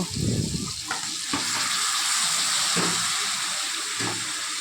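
Mushrooms sautéed together with potato and spices for a curry, a continuous close sizzle broken by a few clattering spatula stirs against the pan.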